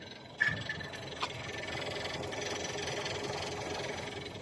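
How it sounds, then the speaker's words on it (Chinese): Volkswagen EA211 1.4T engine idling on a used 2014 Volkswagen Lavida with a suspected fault, giving a steady mechanical hum with faint rhythmic ticking knock throughout, heard close with no talk. "大家是不是通过视频能听见这个车的发动机声音在哒哒哒哒哒哒有节奏的一种声音"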